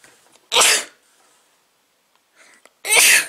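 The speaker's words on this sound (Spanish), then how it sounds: "Por eso la estornudadera." Two loud sneezes from dust, close by, separated by a quiet pause with faint breathing.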